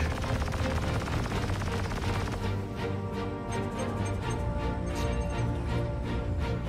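Spaceship guns firing in Star Citizen: a rapid, steady stream of mechanical shots hammering through a constant engine hum, loud and close, with brief pulsing bursts toward the end.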